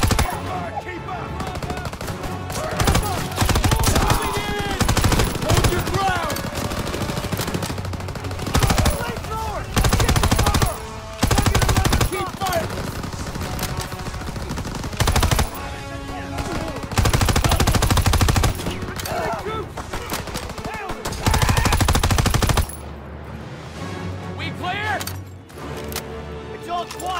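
Machine-gun and rifle fire in a Call of Duty World War 2 street battle, loud sustained bursts with heavy booms, mixed with shouted voices and music throughout.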